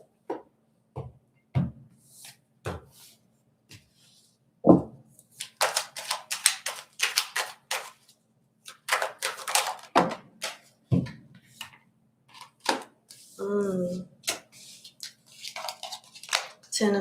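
Tarot cards shuffled during a live question reading, giving a run of quick crisp riffling taps and flutters, close and moderately loud, with short pauses between bursts.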